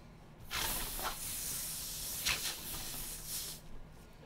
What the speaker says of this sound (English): let me spray the old table off here real quick, too.